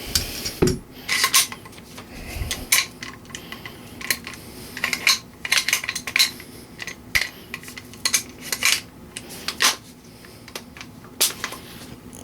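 Metal parts of a KWA Radian airsoft rifle's bolt carrier group clink, scrape and click as the gun is broken open by hand, a run of irregular sharp metallic knocks and rattles heard up close without talking.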